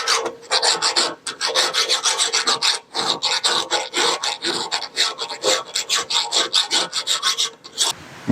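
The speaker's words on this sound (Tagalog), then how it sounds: "ikikil ko lang to ng mabilisan. Tanggalin lang natin yung sobrang chrome plating." A hand file rasps chrome plating off the kickstart of a vintage 1980s Yamaha DT125 two-stroke motorcycle, in quick, loud, rhythmic back-and-forth strokes running without a break.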